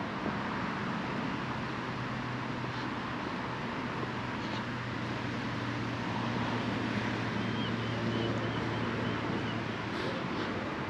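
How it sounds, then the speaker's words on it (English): Steady outdoor wind noise buffets the microphone on a breezy walk near Stanley Park in Blackpool, a constant broadband rush with a low rumble that holds at the same loudness throughout, with no talking. "it's a bit breezy anyway"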